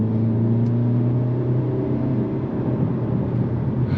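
A 2022 Hyundai Elantra N sports car engine drones steadily and loudly with a deep, rich tone, building slightly in intensity throughout, no voices present.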